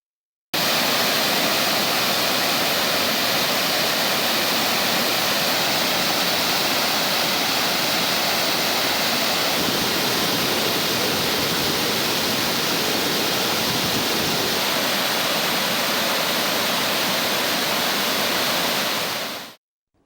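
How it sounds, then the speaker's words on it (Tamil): Rain-swollen water roars down Kumbakarai falls in a loud, unbroken, dense rushing wash that holds steady for the whole span before cutting off, with no voices. "கும்பகரை அருவியில் தண்ணீர் ஆர்ப்பரித்து கொட்டுகிறது"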